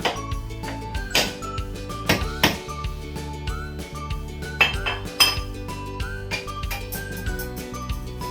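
Set jackfruit burfi being demolded from a tray in a home kitchen, with repeated metallic clinks and knocks of utensils against the tray in an irregular series, close and fairly loud.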